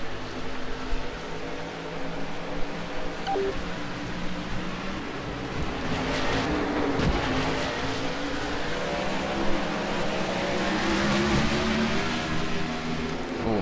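A race car is driven around a track in the online world Second Life, its engine tone droning steadily and loudly throughout, with shifting pitch and no speech over it.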